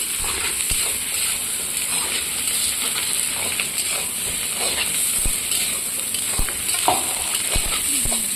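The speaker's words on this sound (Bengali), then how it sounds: "তাই তেলের ওপর 5 ফোড়ন দিয়ে পেঁয়াজগুলো দিয়ে দিলাম।" Onions hitting hot oil seasoned with panch phoron five-spice, frying for potato and pointed gourd dum, give a steady bright sizzle throughout with occasional scrapes and clinks of a utensil in the pan.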